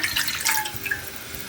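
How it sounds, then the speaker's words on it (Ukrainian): A glass of water poured into a saucepan for cooking pumpkin millet porridge, a brief close splashing and trickling stream alone. "Для цього склянку води вливаю в кастрюльку"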